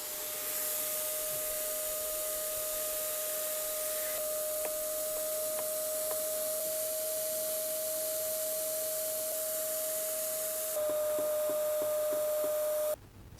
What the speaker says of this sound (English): So let's get a vacuum cleaner.